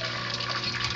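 A small surface pump agitates the water in a 28-gallon aquarium, giving a steady, close, moderate wash of running and splashing water with no talk.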